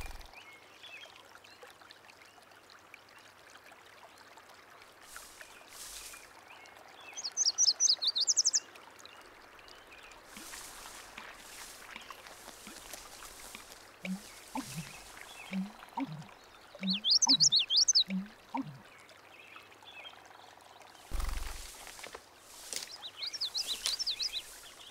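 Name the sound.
birds singing in a marsh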